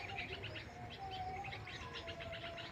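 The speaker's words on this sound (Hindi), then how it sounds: "कि आप पक्षियों की आवाज़ें सुन पा रहे होंगे।" Wild birds sing and chirp in a forest area in Bhopal, India, with repeated bright twittering calls layered over a steady background hum, fairly close and continuous, with no talking.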